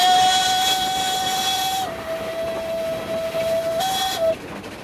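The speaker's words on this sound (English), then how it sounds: "you can feel the engine moving by that rattling and by now speeding up" Rack railway engine on the world's steepest cog line, built on Riggenbach's rack system, picking up speed: a loud, close, steady mechanical whine and rattling rumble, its pitch stepping slightly as it runs, with no talk.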